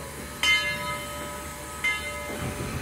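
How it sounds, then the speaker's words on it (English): Steam locomotive 4501, built by Baldwin in 1911 for the Southern Railway, on a railway turntable gives two sharp bursts of steam hiss or whistle a little over a second apart over a low mechanical rumble. "let's go ahead and begin our turntable demonstration this afternoon"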